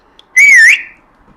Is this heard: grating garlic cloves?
no